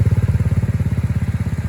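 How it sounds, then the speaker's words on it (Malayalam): A slow-moving tourist pleasure boat on the backwaters at Veliyanad, Alappuzha, chugs past close by with a loud, steady, rapidly pulsing engine throb and no voices. "ഇത് ഉല്ലാസനൗകയായിട്ട് പോകുന്ന ബോട്ടാണേ"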